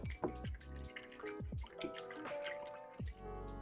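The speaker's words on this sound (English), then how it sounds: "Rinse that paint off." Paint being rinsed off a brush in a cup of water while painting a polymer clay figure, giving small close swishes and drips, quiet and brief.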